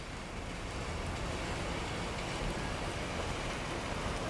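Steady spring storm rain in Quartu Sant'Elena after a hailstorm, a dense even hiss of falling water filling the whole stretch with no breaks and no voices.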